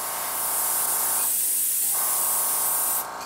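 An airbrush sprays paint onto a crankbait fishing lure, a loud close steady hiss that briefly drops partway, then resumes and cuts off near the end.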